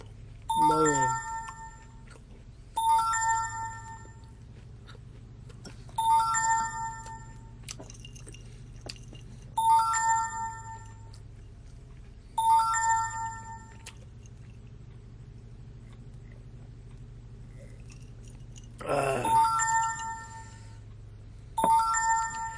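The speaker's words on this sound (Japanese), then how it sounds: "これタブレットにね、メッセンジャーが入ってるんだよ、これなんか。" A messenger app on a tablet chimes repeatedly, short bright notification tones recurring every few seconds at moderate volume over a low hum, with faint sounds of people nearby.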